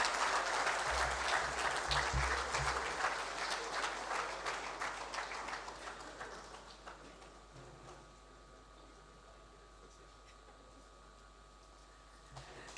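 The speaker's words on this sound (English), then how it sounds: "Please, let's keep the applause going for him." A large audience at a Zenith Bank international trade seminar in a conference hall applauds steadily, loud and dense at first, then thinning and fading away over several seconds into quiet room tone.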